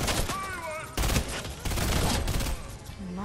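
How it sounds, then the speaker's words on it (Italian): A minigun fires in a video game in rapid, loud bursts: several long sustained streams of shots broken by short gaps, close and dominant, with a voice speaking briefly between the volleys. "Che ha tirato quello con la minigun!"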